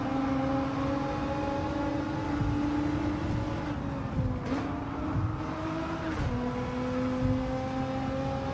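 A GT-R race car engine in Gran Turismo 7 on the Tokyo circuit, a steady high-revving drone with whining harmonics, dipping and rising briefly through gear changes, loud and continuous throughout, with no talking.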